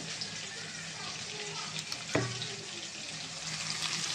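Onion, tomato and green chili frying in a pan with ginger garlic paste, a steady low sizzle with a sharp utensil knock near the middle and no talking.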